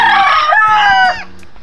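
A fighting rooster crows loudly and close by, one full cock-a-doodle-doo with a rising then falling call, over faint background noise.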